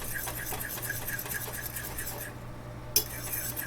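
Utensil stirring Myojo Char Mee instant noodles with their liquid sauce in a bowl, giving soft repeated scraping and clinking, with one louder clink near the end.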